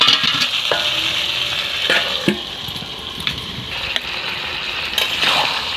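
Chicken kosha sizzles in a pan over a low flame, a steady frying hiss broken by scattered clinks and scrapes of stirring close by.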